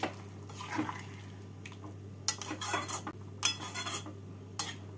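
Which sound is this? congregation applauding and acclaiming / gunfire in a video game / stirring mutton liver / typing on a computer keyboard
stirring mutton liver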